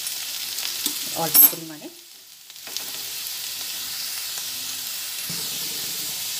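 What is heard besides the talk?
potatoes frying and being stirred in a pan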